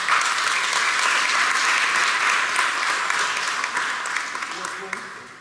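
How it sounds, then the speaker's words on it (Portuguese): Sustained applause from a congregation fills a church during a solemn First Communion service, dense steady clapping that runs throughout and slowly tapers toward the end. "salva de palmas para ele"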